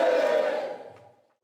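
A crowd at a centennial commemoration of the March 1st independence movement, held at the Gyeongbuk Independence Movement Memorial Hall, roars a final 'manse' cheer that rings loud, then fades quickly into quiet.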